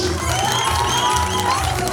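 Wedding guests at the Expo Park Hotel clap and cheer for the hotel staff, a brief, lively burst of crowd noise with whoops and shouts over music playing in the hall.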